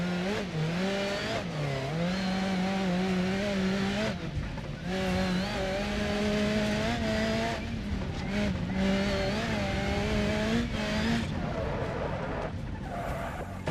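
In BeamNG Drive, a car's engine revs hard while its tires squeal in long skids, the pitch sliding with throttle and steering, loud and continuous with brief breaks.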